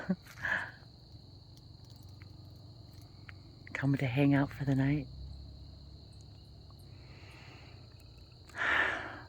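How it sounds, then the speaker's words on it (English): A steady high trill of crickets and frogs at night runs throughout, with a person speaking briefly in the middle and faint breathy sounds around it. "I can hear the frogs and the crickets"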